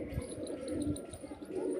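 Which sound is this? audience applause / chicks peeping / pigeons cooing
pigeons cooing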